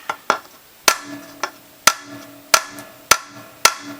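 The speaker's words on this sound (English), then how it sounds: "what we're going to do is we're going to pound out that dent" Sharp metal hammer blows pound a dent out of a Norwalk juicer's upper press plate, about eight close, evenly spaced strikes each with a short ringing decay, no talk.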